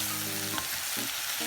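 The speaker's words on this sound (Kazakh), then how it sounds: "біздің саңырауқұлақ және тауық етіміз әбден қуырылып жатыр" Mushrooms and chicken seasoned with salt and pepper fry in a pan, a steady close sizzle with faint hum and occasional utensil clicks, no voices.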